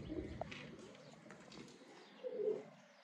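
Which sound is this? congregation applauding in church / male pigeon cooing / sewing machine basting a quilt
male pigeon cooing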